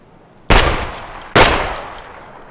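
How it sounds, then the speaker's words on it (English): Two sharp gunshots ring out in the video game Escape from Tarkov, spaced about a second apart, each followed by a fading tail, with no talk over them. "He definitely shot that scav."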